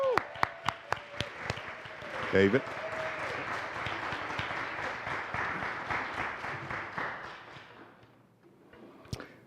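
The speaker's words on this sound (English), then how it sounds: "Let's give them a big round of applause." Audience applause for Mandel School Leadership Fellows at a capstone presentation, a sustained roomful of clapping rising after a few sharp claps, with a brief spoken word early and tapering near the end.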